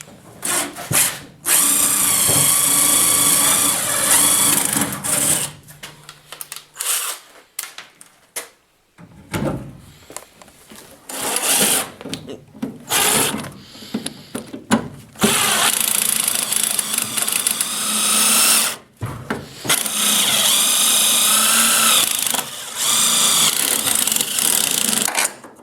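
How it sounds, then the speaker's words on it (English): Power drill boring out a joint on a pop-up camper being turned into a utility trailer, loud and close, running in long whining bursts with brief stops and restarts. "I'm going to have to replace after I get it drilled out of there"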